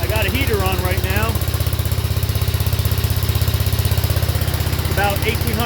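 Onan 2kW LK generator with a sausage muffler, running under a heavy load near its maximum output, a steady, close, pulsing engine drone with a person talking over it at the start and end.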